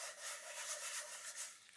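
A craft tag rubs against a paint mat in soft, quick scuffing strokes, faint and close, with no talking.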